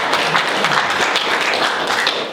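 A small audience gives a short burst of steady applause, dense close clapping at a government affairs event, with no voices over it.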